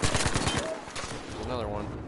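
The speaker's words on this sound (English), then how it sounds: "God damn, I'm getting sniped from all around me." Sniper gunfire in a video game, heard as a quick run of sharp shots near the start and then a sustained rumbling of game noise, with someone talking over part of it.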